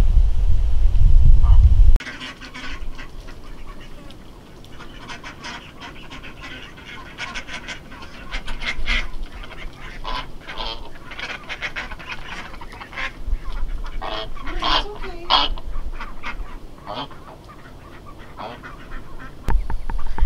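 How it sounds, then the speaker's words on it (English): Mallard ducks are being shooed out of their pen onto grass, giving scattered quacks over a steady background of rustling and movement. A short burst of low noise opens the clip. "the mallards, who've never lived anywhere but in their pen, show no interest in coming out, so we're gonna attempt to shoo them out on the grass"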